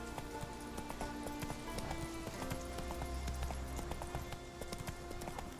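Steady clip-clop of the horse Roach trotting in The Witcher 3, continuous rhythmic hoofbeats under a bed of game music and ambience, fairly quiet throughout.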